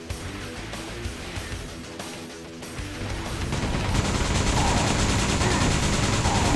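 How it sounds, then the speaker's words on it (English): Chain gun fire in Quake II, sparse shots at first, then a loud, dense, continuous roar of rapid fire building from the middle to the end. "You get killed if you're getting shot by that chain gun."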